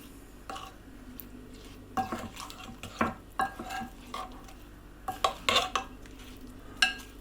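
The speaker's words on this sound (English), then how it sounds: "So I'm just taking a small spoon of flour and sprinkling it over. Just stirring that through." A spoon stirs a small sprinkle of flour into cooked fruit in a pan for a childhood pudding, giving soft wet squelching and scattered clinks and scrapes against the pan, intermittent and close, with a faint background hum.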